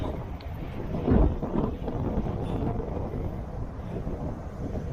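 Steady gusting wind buffets the microphone with a low rumbling roar, swelling briefly near the start, with no clear voices.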